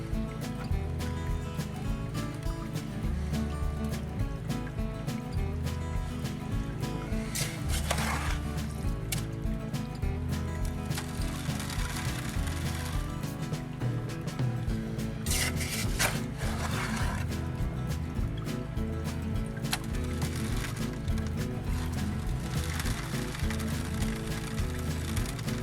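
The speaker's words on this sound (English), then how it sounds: "You hear the gravel running down this sluice box." Gravel washing down a sluice box in a dammed mountain stream while gold prospecting, a steady close rushing and grinding wash with occasional louder scrapes, a dredge pump droning low beneath it throughout.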